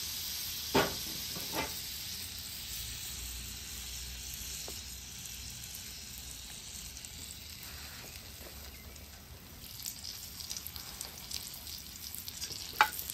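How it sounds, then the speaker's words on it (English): Pork chops shallow fry in oil and butter on a Weber griddle, giving a steady close crackling sizzle with occasional sharper pops and scraping clicks, heard alone without talking. "Now we're going to start shallow frying these."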